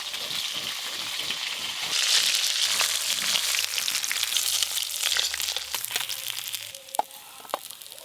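River tul fish frying in oil over a village wood fire, a steady close, dense sizzle and crackle that runs the whole time, with a few sharper pops near the end.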